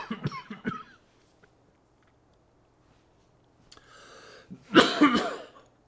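A man coughs at the end of a long spell of speaking, with a short burst of coughs up close, a quiet pause, then a harder, louder fit of several coughs and throat clearing.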